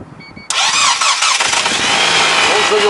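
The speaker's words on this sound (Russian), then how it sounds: "попробуем запустить двигатель" A 2007 Nissan Qashqai with a 2.0 petrol engine and automatic gearbox cranks on a booster pack and catches abruptly, roaring up loud and close before settling into a steady idle.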